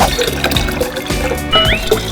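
Copper sulfate solution is poured into a container in a classroom, giving a close, bubbling, trickling splash with gurgles that runs through the whole pour.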